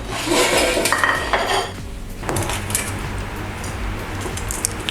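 Air-fried garlic chicken wings lifted from the fryer basket and set onto a plate, with close clinks and scrapes of utensils and dishware in several bursts, moderately loud and without talk.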